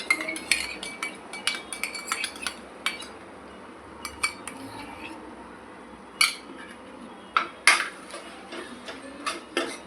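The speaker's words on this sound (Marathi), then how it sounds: "दही छान मिक्स करून घ्यायचं।" A spoon clinks and scrapes against a pan while beaten curd is stirred in, with irregular close taps and light metallic chimes over a soft background.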